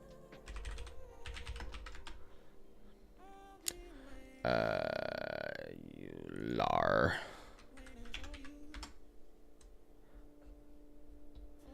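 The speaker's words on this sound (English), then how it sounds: "It's so awkward for me to type past my mic." Computer keyboard typing, set off to one side of a microphone, comes as scattered quick clicks under a low room hum, with a louder burst of noise in the middle.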